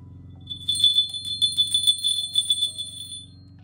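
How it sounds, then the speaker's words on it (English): Large rustic sleigh bells from Weaver Leather are shaken by hand, giving a bright, close metallic jingle in quick rhythmic pulses over a low steady background hum. "Just listen to that beautiful sound. Look at these freaking, just look at how amazing these are."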